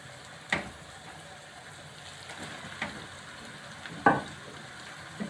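Minced meat frying in a pan with golden brown onions, a faint, low sizzle punctuated by a few sharp clacks of a spoon against the pan.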